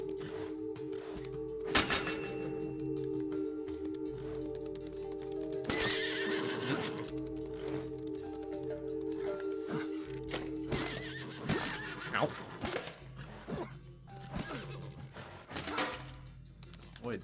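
A horse neighs loudly several times amid clopping hooves and sharp thuds, over a steady droning background in the video game Apotheon.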